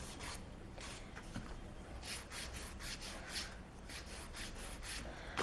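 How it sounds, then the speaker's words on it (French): A nail file rasps steadily against an acrylic false nail near the cuticle, a continuous close-up scratching with rhythmic back-and-forth strokes and no talk. "vous venez limer le faux ongle qui est au bord de la cuticule"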